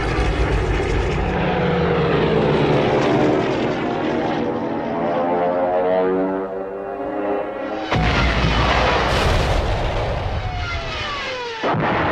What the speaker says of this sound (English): without any reinforcements or aerial support, the French tanks become prey to the Stukas